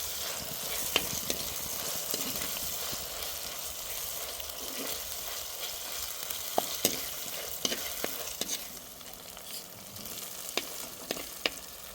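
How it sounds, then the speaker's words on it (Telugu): Ginger garlic paste sizzling steadily in hot oil in a home kitchen, a soft continuous fry broken by occasional sharp clicks of a spoon stirring the pan. "అల్లం వెల్లుల్లి పేస్ట్ పచ్చివాసన పోయేంత వరకు ఇలాగే నూనెలోనే ఉడకబెడతాను"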